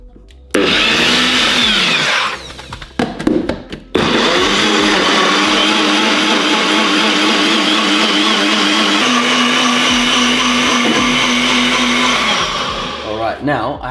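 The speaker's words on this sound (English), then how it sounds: "So let's blend" A blender liquefying watermelon for a Berliner Weisse sour beer: after a short start it stutters briefly, then runs as a loud, steady, close whir that shifts pitch about two-thirds of the way through and winds down at the end.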